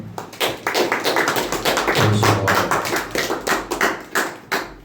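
A church congregation claps hands together in a dense, steady burst of applause lasting several seconds, loud and close.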